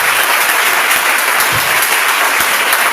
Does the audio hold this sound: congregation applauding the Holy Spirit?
yes